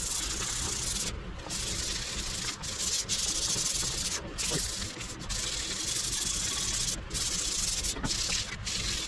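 Hand sanding on a pitted metal sleeve from a Craftsman lathe under restoration, with steady rasping strokes that come close and loud and are broken by brief pauses as the sandpaper lifts and resets.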